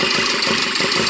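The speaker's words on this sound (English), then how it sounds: "the engine started to vibrate more" A car engine idles roughly with one fuel injector disconnected during a misfire check, a loud uneven throbbing rumble with a pulsing, shaky rhythm close up and no voices.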